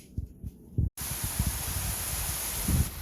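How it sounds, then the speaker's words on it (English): Gusty outdoor wind buffets the microphone at close range, a steady rushing hiss broken by low rumbling thumps, with one brief dropout near the start. "Windy."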